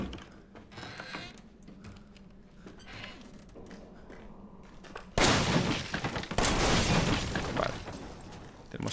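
Resident Evil 7 gunfire: a burst of loud, sharp shots erupts partway through after quieter clicking and mechanical sounds, then continues in dense, rapid bursts.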